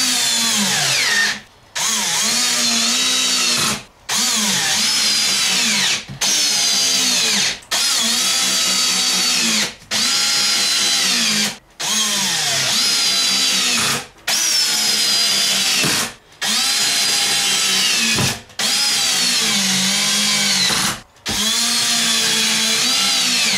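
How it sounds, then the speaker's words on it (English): A power drill drives fasteners to secure a hinge on a wooden front bench seat inside a DIY travel trailer. Roughly ten loud, close bursts whir in a steady rhythm, each broken by a short pause. "next step is to put the hinge in place. Fasten that down."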